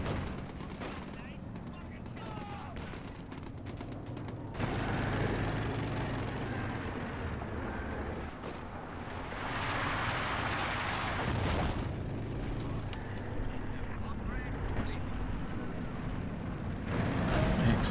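Rolling artillery barrages and explosions in the strategy game Company of Heroes 2, a 3v3 match with rocket artillery, steady booming din with vehicle rumble beneath a commentator's voice.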